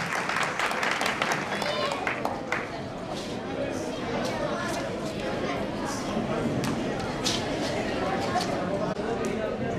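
An audience at a Gujarati dayro gathering in Surat applauds artist Bhavesh Mistry. The clapping is steady and moderately distant, mixed with crowd chatter and voices.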